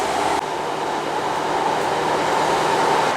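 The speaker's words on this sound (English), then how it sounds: "This train is a lot emptier, as you can see." A UK passenger train runs along the track, heard from inside the carriage as a steady, loud rumble with a continuous hiss and no talking.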